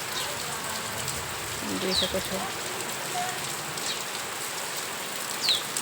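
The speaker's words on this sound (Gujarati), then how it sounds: "વરસાદ ફૂલ થઈ ગયો છે" Heavy rain pours steadily outdoors beside trees and water, a dense continuous hiss close by, with someone talking intermittently over it and a few faint bird calls.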